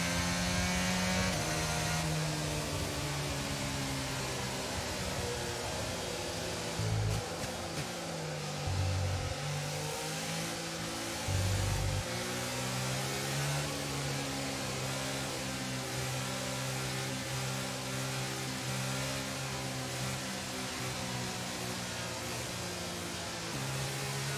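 An F1 22 racing car engine drones on track in the video game, holding steady revs with a few brief drops and gear-shift dips, loud and continuous with no speech.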